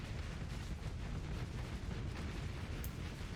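Continuous rumbling explosions and heavy impacts as a volley of Reaper torpedoes strikes a ship in Starsector, a dense, steady roar of blasts with no voices.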